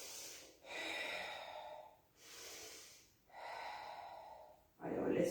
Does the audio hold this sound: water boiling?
no